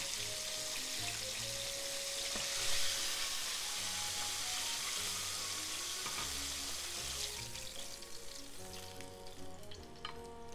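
Karaage, Japanese fried chicken, frying in hot oil: a dense, steady hiss and crackle close by that runs the whole time, with faint clinks from utensils and no talk.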